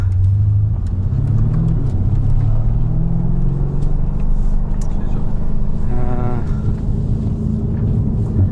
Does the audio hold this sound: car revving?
yes